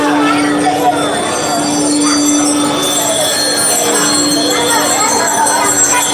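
Bells ring steadily through a live stream of a Honda B16 engine assembly, with a sustained tone and shimmering upper ringing, at moderate level under continuous background noise.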